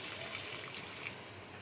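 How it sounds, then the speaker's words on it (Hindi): A cup of water pours into a karahi holding chicken, a steady soft gushing trickle heard close up with no talking. "एक कप इसके अंदर पानी शामिल करेंगे"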